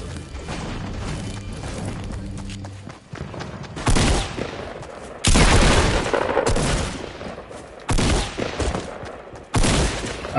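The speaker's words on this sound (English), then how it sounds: "Why I hate tactical shotguns, they shoot too fast." Bursts of shotgun fire in a video game, with a tactical shotgun shooting fast, loud clustered blasts arriving in several separate volleys between quieter gaps.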